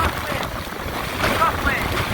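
Strong Hurricane Sally wind on Dauphin Island, Alabama, buffets the microphone as a dense, steady roar with slight gusting swells through the short stretch.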